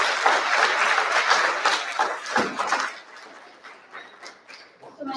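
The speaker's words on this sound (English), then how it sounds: "And one more round of applause for Ms. Stampa and Ms. Shalari and our third grade students." An audience at a school board of education meeting gives a dense round of applause for third grade students that holds for about three seconds, then thins out into scattered claps and murmuring voices.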